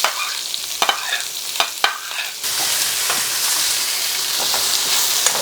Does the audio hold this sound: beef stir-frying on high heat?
yes